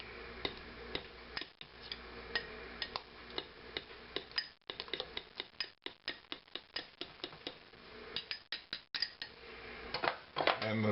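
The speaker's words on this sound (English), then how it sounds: "it says to stir it, which I'm going to do." Scrambled eggs being stirred in a microwave-safe dish with a utensil: a steady run of light clinks and scrapes against the dish, close and moderately quiet, with no talking.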